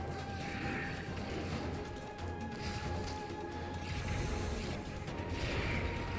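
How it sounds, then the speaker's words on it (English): Weapon sharpening in the Monster Hunter video game, heard as repeated gritty mechanical scraping strokes over a steady background of game sounds, with no speech. "Now I kind of have to go sharpen."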